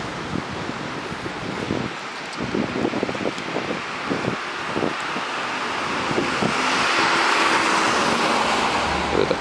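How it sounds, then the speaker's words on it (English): Luxury cars such as a Rolls-Royce, Bentleys and a Brabus AMG pass along a London street, giving steady road and engine noise that swells toward the end, with wind buffeting the microphone and no talk. "Another Rolls Royce coming down the street."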